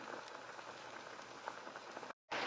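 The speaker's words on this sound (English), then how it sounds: "Water is boiling." Water boils at a steady, dense bubbling roar in a cooking pot being heated to cook tripe, constant and fairly soft, cut by a brief gap of silence near the end.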